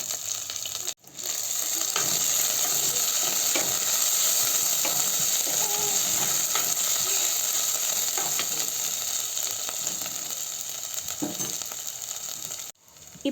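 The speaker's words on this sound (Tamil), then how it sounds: "அந்த வரமிளகாய் இதோட சேர்த்துட்டு கருவேப்பிலையும் சேர்த்துட்டு இந்த இடித்து வச்ச தூதுவளையும் இதோட சேர்த்து நல்லா வணக்கிடலாம்." Dried red chilies, curry leaves and crushed thuthuvalai sautéing in hot oil in a village kitchen, a steady close sizzle with stirring scrapes that runs for most of the stretch after a brief pause near the start.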